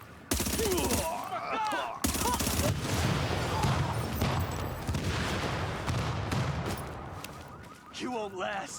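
Sniper rifle gunfire in a video game, with dense rapid shots and booms running loud and steady throughout, mixed with game sounds and some voice activity.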